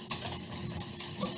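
Hollandaise sauce is stirred in a pot off the heat with cayenne and salt added, a soft close scraping and swishing of a utensil repeating in quick irregular strokes, with no talk.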